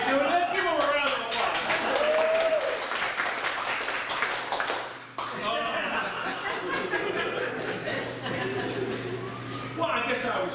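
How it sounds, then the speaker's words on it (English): An audience applauds and laughs for a male belly dancer at an improv comedy performance, with clapping and chuckles mixed under ongoing talk, dipping midway before swelling again. "Let's give him a round of"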